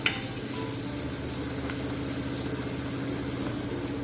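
Green chillies with salt sauté in a pan for a traditional sweet-sour panchamrut, giving a steady, moderate sizzle with a faint low hum beneath and a brief knock at the start, no talking.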